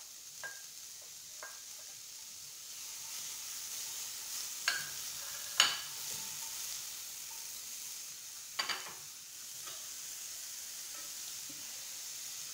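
Onions sizzling in a heated sufuria pan, a faint steady frying hiss with a few sharp clinks and scrapes of utensils against the metal.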